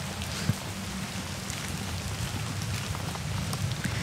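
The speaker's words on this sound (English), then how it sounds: "It's raining, but just that perfect." Chilly rain falls steadily outside at a resort with a lamyai tree nearby, a dense continuous patter on surfaces with a few sharper drips, no voices.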